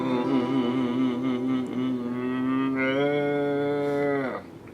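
Cattle mooing in a long, loud, drawn-out call with a strong tonal quality, rising and holding before trailing off near the end, close by and with no talk.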